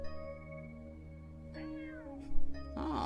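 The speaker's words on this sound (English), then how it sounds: "Ah, some sort of cat. That was a definite meow." A cat meows inside a video game, sounding once near the end over a steady ambient music drone with tonal game sounds, no talking.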